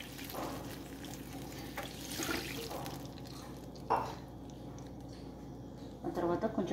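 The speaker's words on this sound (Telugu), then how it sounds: "ఆ తర్వాత ఇంకో గ్లాస్ పోసుకోవాలి." A second glass of water poured into a pan of wheat rava upma, with wet splashing and hissing bursts over a background sizzle, close by, while someone speaks intermittently.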